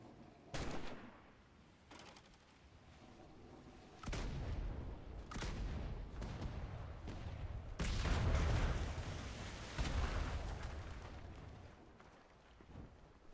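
A ship's front guns fire in a naval video game, a string of heavy booming bursts with rumbling tails, spaced a second or two apart and fairly faint overall.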